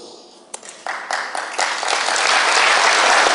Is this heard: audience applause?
yes